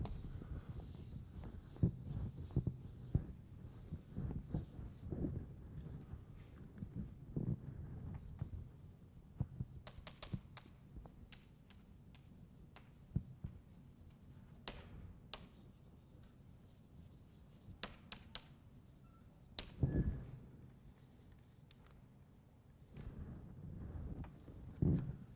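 Chalk or marker scratches and taps against a lecture-hall board in quiet, intermittent strokes, faint and close, with low room hum underneath and no talking.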